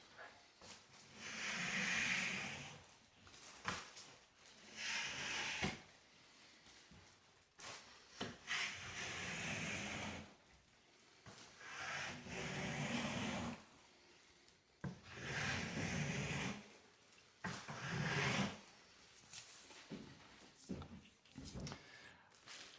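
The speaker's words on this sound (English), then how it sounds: "I had not used a scraper with the bag attachment, but that really works pretty well." A hand scraper fitted with a bag attachment scrapes dampened popcorn texture off a ceiling, making repeated rasping strokes in bursts of a second or two with short pauses between them, close and moderately quiet.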